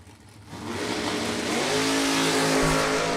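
Drag-racing 1968 Camaro door car doing a big burnout, a loud sustained engine roar with tire screech building steadily and holding at full volume.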